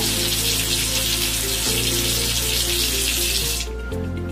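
Steady, close rush of water pouring from a tap into a sink during handwashing, continuous and loud, easing off near the end as the flow is reduced.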